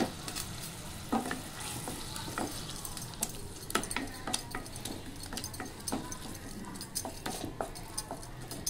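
Corn masala sizzles in a pan while a utensil stirs and taps against the metal, giving frequent sharp clinks and scrapes over a low continuous frying hiss, fairly quiet and close.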